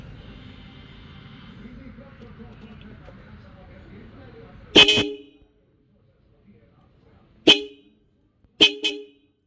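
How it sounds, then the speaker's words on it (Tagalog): Seger 50F dual disc horn blasting three separate times, one long loud honk followed by two shorter ones, after a stretch of faint background murmur. "So, Seger 50F Dual Disc Horn."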